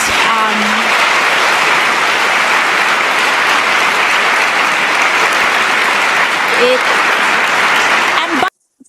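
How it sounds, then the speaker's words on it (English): An audience claps steadily in a large, dense burst of applause that sustains at full strength, with a few voices calling out over it, before cutting off abruptly near the end. "so why are they clapping?"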